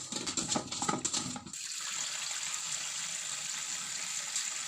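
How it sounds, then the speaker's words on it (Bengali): Koi fish (climbing perch) are rinsed under running water in a kitchen, with splashing and handling for a moment before it settles into a steady stream from the tap. "এবার মাছগুলোকে ভালো করে ধুয়ে নেব"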